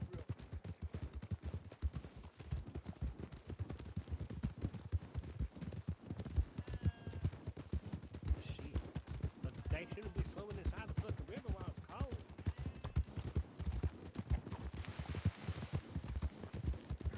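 Horse hooves clip-clop steadily in a Western roleplay game on WildRP, giving a continuous rapid thudding at moderate volume with faint voices now and then.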